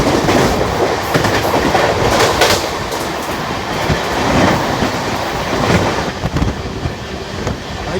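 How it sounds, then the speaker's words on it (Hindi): The Amritsar Express rushes past on an Indian railway line, a loud, continuous roar of rolling carriages with rhythmic wheel clatter and wind buffeting, heard close up from a moving train. "सामने से आ रही 11:57 अमृतसर एक्सप्रेस"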